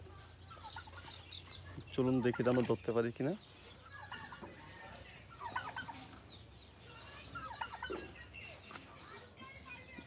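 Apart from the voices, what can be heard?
turkey chicks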